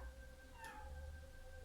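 A house cat cries by a door indoors: a single faint, drawn-out meow rises and falls over steady low hum and electrical tones.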